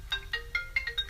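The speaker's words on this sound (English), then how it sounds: "that's my phone ringing." A phone ringtone chirps in quick repeating electronic tones, a short melodic trill heard faintly over a low hum.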